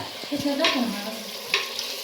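Biryani masala sizzles in a pan while it is sautéed, a close, continuous frying hiss with scraping stirs and a couple of louder utensil strokes.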